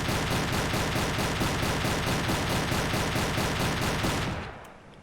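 Sustained rapid gunfire from a submarine's deck gun in Silent Hunter 3, loud and dense with a steady rapid rhythm for about four seconds before cutting off and decaying into quiet.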